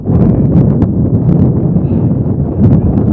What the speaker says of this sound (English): You can probably hear the wind. It's gusting so hard here in our broadcast location atop the new grandstands